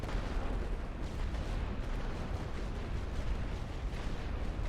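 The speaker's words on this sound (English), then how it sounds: "I'm just going to drop artillery on you guys" An artillery barrage in The Great War: Western Front, a dense, distant continuous rumble of overlapping gun blasts and booms, fairly quiet and without clear separate shots.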